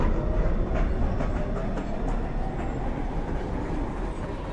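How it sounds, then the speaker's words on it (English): A New York subway 1 train rumbles into the station at night, a loud steady roar of wheels on rail with faint rhythmic clacking, sustained throughout with no voices. "Downtown Local 1 train. Approaching the station"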